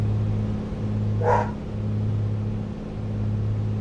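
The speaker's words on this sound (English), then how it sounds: "we're just gonna go by the sound of the engine this time" A2A Comanche aircraft engine in a flight simulator game drones as a steady low tonal hum with slight pulsing, heard alone apart from one brief higher-pitched burst partway through.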